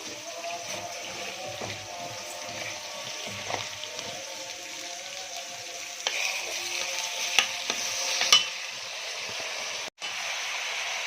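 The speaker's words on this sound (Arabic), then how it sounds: "كده بعد ما حطيت الرز هشوح فيه" Rice is stir-fried with sautéed garlic in a pan: a soft continuous sizzle with the scrape and shuffle of a spoon stirring, plus a few louder knocks near the end.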